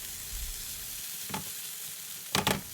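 Shrimp and BBQ pork frying in a pan for Yangzhou fried rice, a quiet steady hiss broken by a soft scrape and then a louder double clatter of a spatula near the end.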